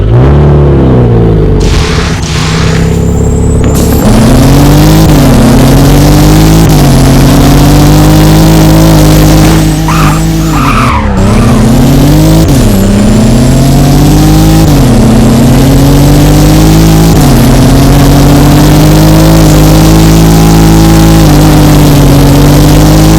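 A car engine in the Driving Empire video game revving loud and close, with repeated rising and falling surges of engine pitch over a constant heavy rumble.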